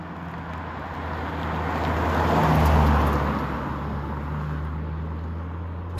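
A Hyundai Bayon engine rising in revs as an automatic heel-toe downshift blips the throttle, swelling to a peak midway and then settling back to a steady hum under road noise.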